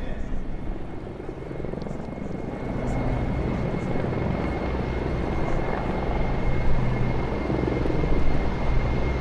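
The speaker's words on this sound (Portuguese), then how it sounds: "E a surgirem no horizonte helicópteros de ataque ao solo" Mi-24P ground-attack helicopters fly over, a steady loud rotor and engine roar that holds throughout, broad and rumbling with a thin high whine on top.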